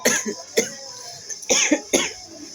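A woman coughing with a seasonal cough, with several sharp, loud bursts spaced irregularly and short rough pauses between them, close up and alone.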